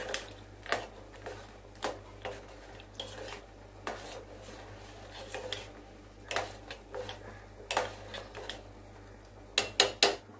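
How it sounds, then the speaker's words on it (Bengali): A spoon stirring payesh with cashews and raisins in a metal pot, irregular clinks and scrapes against the pot sides at close range, quiet, with no talking. "এবার ভালো করে নেড়ে চেড়ে নিয়ে সব কিছু মিশিয়ে নিয়ে আমার পায়েসটা রেডি করে নেব।"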